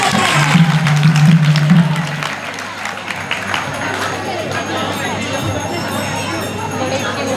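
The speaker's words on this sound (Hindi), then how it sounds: "तो आइए तालियों के साथ उनका हार्दिक स्वागत करते हैं।" Audience applause welcoming a children's Sunday school dance, a crowd clapping steadily from start to finish with a held tone and chatter over it.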